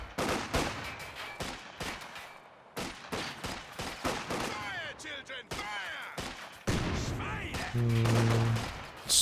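Artillery barrage in Company of Heroes 2: a rapid series of loud shell impacts and blasts, close and overlapping, with scattered explosions and rumbling through the whole stretch.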